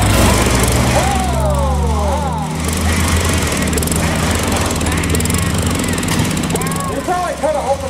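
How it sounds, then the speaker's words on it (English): A 22-inch Craftsman lawn mower engine drones loudly and steadily close by, its low rumble running throughout while voices talk over it. "here comes that 22-inch Craftsman mower"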